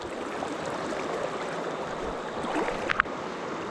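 Fast-flowing current of the Goulburn River rushes steadily throughout, a continuous broadband water wash heard close with no talk, plus a brief sharper splash near the end.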